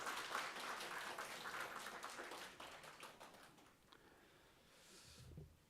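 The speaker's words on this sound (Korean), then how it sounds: "자, 우리 박수 치겠습니다." A church congregation at a New Year thanksgiving service applauds, a soft, fairly distant patter of many hands clapping that thins out after a few seconds and gives way to quiet room noise.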